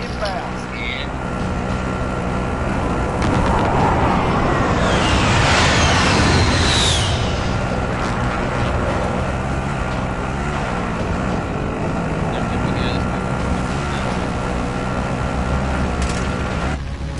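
Call of Duty: Warzone airstrike landing as a sustained, loud rumbling roar of blasts with crackling debris, swelling around the middle and holding steady under game noise.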